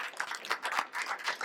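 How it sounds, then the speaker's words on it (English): Applause after a post-screening panel discussion, a soft, thin patter of clapping from a modest audience, fairly distant and brief. "Okay, give yourselves a round of applause."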